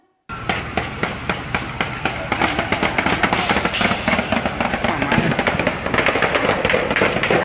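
Rapid bursts of gunfire from army soldiers shooting out of their vehicles at houses and townspeople, sharp cracks in dense irregular volleys that run without pause, loud and slightly distorted as heard through a played recording.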